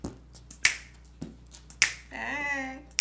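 Crisp finger snaps ring out several times at a loose, uneven rhythm, sharp and close, with a brief hummed voice between them.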